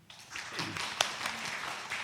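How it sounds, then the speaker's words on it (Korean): A church congregation breaks into applause during a sermon service, with a soft, diffuse patter of many hands clapping that swells quickly and holds steady, heard from a distance and fairly quiet. "박수."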